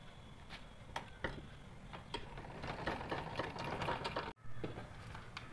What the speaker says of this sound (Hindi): दोनों को सीधी साइड रख के इस पर हम सिलाई लगाएंगे।